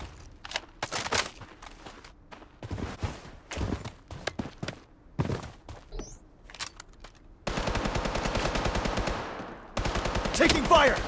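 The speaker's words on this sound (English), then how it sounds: "Taking fire!" Rapid gunfire in the battle royale shooter BloodStrike, with short sharp bursts and single shots at varying distances, followed by sustained automatic fire toward the end; no clear speech.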